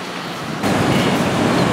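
Incoming ocean surf on a beach at a striped bass fishing spot, a steady broadband wash of breaking waves that swells louder partway through, with some wind noise on the microphone.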